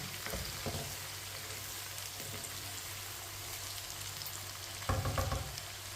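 Pickle ingredients fry in hot oil, giving a steady, fairly quiet crackling sizzle with a louder burst of bubbling near the end, and no voices.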